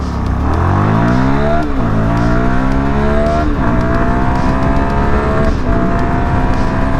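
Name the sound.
CFMOTO 300SS motorcycle accelerating in 0 to 60 test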